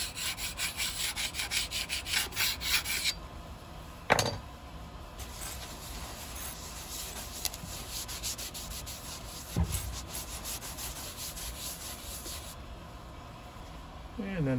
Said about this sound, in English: Use a scraper.